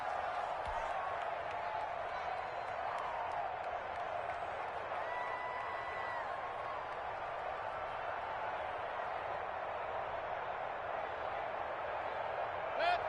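Steady, faint stadium crowd murmur fills a Madden football video game and holds at a constant roar throughout, with a commentator's voice over it.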